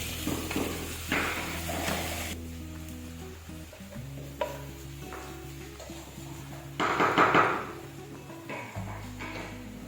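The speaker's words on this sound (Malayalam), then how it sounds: "നമ്മളതിലേക്ക് കുറച്ച് ജിഞ്ചർ ഗാർലിക് പേസ്റ്റ് ഇട്ട് കൊടുക്കുകയാണ്" Ginger garlic paste sizzles steadily in a hot pan of onions for biryani, stirred with a utensil that scrapes and taps intermittently, with a louder burst of frying near the end.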